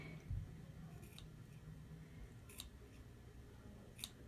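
Scissors snip three times at a slow, even pace, each cut a faint crisp click against a quiet room background, with a soft thump near the start.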